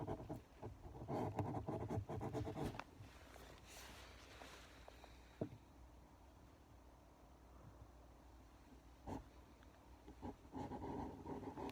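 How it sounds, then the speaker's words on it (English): A knife scores bark in a ring around a birch trunk, giving close, scratchy rasping strokes in several uneven bursts with quieter gaps between them. "we'll get one knife here, and what we do is just make a cut right around the trunk"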